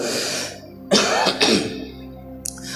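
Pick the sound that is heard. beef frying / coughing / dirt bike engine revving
coughing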